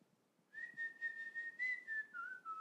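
A single person whistles a short, steady tone that slides slightly downward, fluttering in brief pulses against a quiet background.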